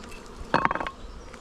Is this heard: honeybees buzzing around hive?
yes